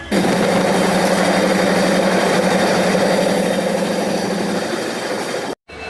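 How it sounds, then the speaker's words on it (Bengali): A diesel train hauled by a WDG-4D locomotive, a steady engine drone with a low hum that holds close and loud for about five seconds, then cuts off abruptly near the end. "ইঞ্জিন সেটি কিন্তু একটি ডিজেল লোকোমোটিভ হ্যাঁ আর এটি একটি ডাব্লিউডিজি ফোরটি ডি"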